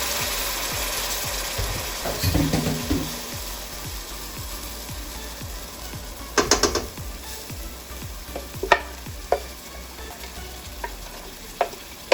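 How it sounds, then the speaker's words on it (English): A spoon scrapes around a pot as blended pepper mix is stirred into Nigerian coconut rice, with a soft sizzle underneath and several sharp metallic clinks of utensil against pot toward the end. "we stir it and leave it to cook for just 2 minutes"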